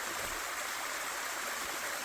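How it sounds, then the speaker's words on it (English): Small waterfall splashing beside the Appalachian Trail near a water spot, a steady close-up rush of falling water filling the whole stretch with broadband hiss, no voices. "It's pretty neat, little waterfall there."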